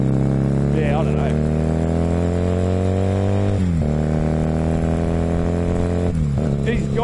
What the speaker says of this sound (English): he loves to run best in the high revs, which I think is normal for these types of bikes